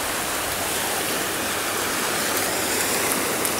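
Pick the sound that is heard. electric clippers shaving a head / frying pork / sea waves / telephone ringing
sea waves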